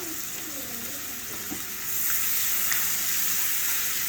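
Onions fry in hot oil with a continuous close sizzle and occasional pops, growing slightly louder midway through.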